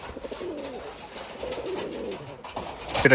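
Pigeons coo softly in short, repeated burbling phrases at a pigeon sale, close by against light background noise, with a brief louder clatter at the end.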